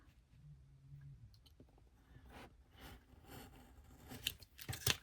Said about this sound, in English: I'm going to cut here.